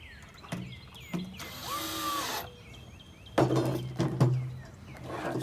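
Power drill driving a screw into a wooden bird feeder, with a few sharp mechanical bursts of whirring and grinding separated by quieter handling clatter, close up with no talk.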